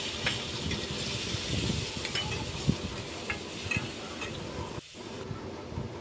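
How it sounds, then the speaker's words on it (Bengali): Spice paste for a green banana kofta curry, thinned with a little spice-rinsing water, cooks in a pan with a steady close crackling sizzle and occasional stirring scrapes, fairly quiet and uninterrupted by talk. "এবার মশলা ধোয়া জলটা একটু দিয়ে আমরা কষিয়ে নেব।"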